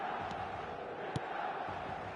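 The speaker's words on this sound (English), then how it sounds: "The stadium is full of noise and energy." A packed stadium crowd in the eFootball 2026 football video game roars as a steady, loud wash of cheering and chanting, with a brief sharp spike partway through.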